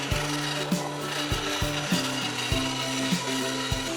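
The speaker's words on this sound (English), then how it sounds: "I'm not great on the bandsaw, but I figured it's the best tool for the job." A bandsaw cuts through a wooden longboard blank with a steady rasping whine, the blade's pitch dipping in repeated pulses every half second or so as the wood is fed, close up and alone.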